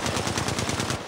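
Rapid automatic gunfire from the Apex Legends Mobile video game, a tight burst of roughly a dozen evenly spaced shots, loud and alone.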